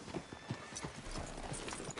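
Horse hooves clip-clopping in Red Dead Redemption 2, a steady rhythmic series of close hoof strikes on the ground at a walking pace, with faint ambient noise around.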